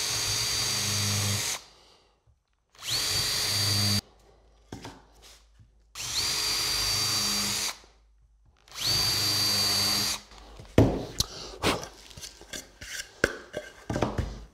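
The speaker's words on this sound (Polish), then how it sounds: "Wiertło z faską, żeby nam się schował łepek naszego wkrętu i nawiercamy." A power drill fitted with a countersink bit bores pilot holes in wood for a key cabinet: four loud whirring bursts with pauses between them, then a run of clattering knocks and handling sounds.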